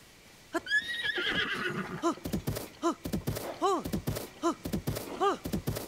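A horse in the video game The Legend of Zelda: Tears of the Kingdom whinnies repeatedly during taming in short, bright neighs, several in a row with thuds between them, loud and close, with no talking.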